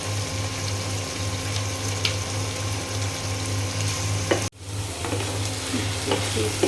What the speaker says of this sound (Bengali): এখানে যে ভাজিটা হচ্ছে, আমি আজকে ঢাকনা দিয়ে ঢেকে দিইনি, না ঢেকে ভাজিটা করে নিচ্ছি